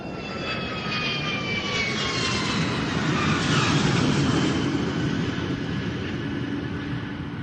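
An airplane engine used as a sound effect in an audio drama roars steadily and loud, a continuous jet-like drone with a faint whine sliding downward, alone without voices.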